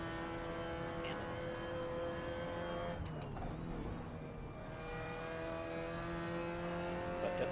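Mazda RX-5 Cup race car engine in the Assetto Corsa racing game drones steadily at moderate distance, with pitch shifting as gears change partway through, and a sustained engine tone throughout without speech.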